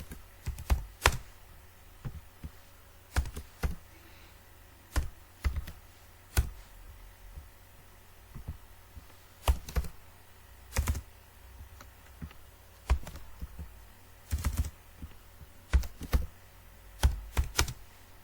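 Students' names are typed into a Microsoft Excel sheet on a computer keyboard: irregular clusters of crisp keystrokes with short pauses between them, close and fairly quiet, and no one speaking.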